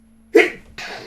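A single sharp human sneeze bursts out close to the microphone, followed by a brief breathy tail, with no talk around it.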